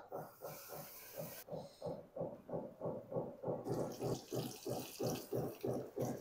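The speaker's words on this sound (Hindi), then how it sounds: "अब ये जो पीस जिन पे मैंने मैदा लगाया था ये मैं इसमें डाल दूंगा।" Flour-coated chicken pieces for a zinger burger drop into hot oil in a kadhai, giving a soft, steady sizzling hiss that pulses in a quick, regular rhythm throughout, with no speech.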